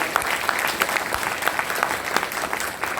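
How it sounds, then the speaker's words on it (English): Audience at a school felicitation ceremony applauding the children, a steady crowd of claps filling the room at moderate distance, fairly soft and even throughout. "So I think a big, big round of applause for all our children."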